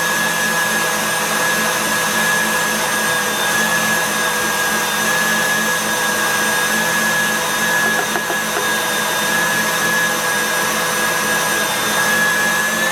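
An electric mixer whips egg whites with sugar and coloring for macarons, giving a steady, loud whirring hum with a high whine that holds at one speed throughout.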